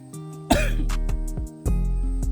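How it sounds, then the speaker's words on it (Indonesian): A few harsh coughs and throat-clearing sounds, close and loud, in quick bursts. "maaf ya, kita sedang batuk"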